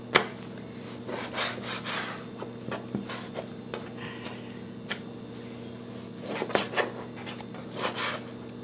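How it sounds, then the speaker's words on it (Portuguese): Knife cutting boneless chicken thighs into pieces on a board, with scattered close thuds, soft squishing and brief slicing strokes over a faint steady hum, no talk. "Eu cortei a sobrecoxa, uma sobrecoxa em 4 partes."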